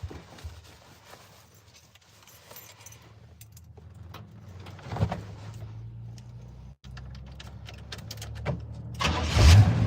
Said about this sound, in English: I told you this truck fires up and is reliable